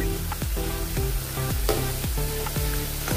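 Cabbage and moong dal pakoras deep-frying in oil over low heat, a close, continuous crackling sizzle with repeated soft bursts as the fritters bubble.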